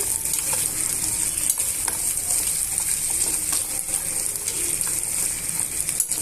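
Green chillies, peanuts and chopped onions fry in a pan with a steady close sizzle, broken by light stirring clinks and scrapes.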